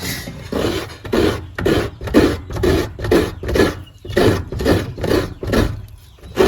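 A coconut is grated by hand for a Lao-style banana-in-coconut-milk dessert, producing about a dozen steady, evenly spaced rasping scrapes that are close and fairly loud, with no talking.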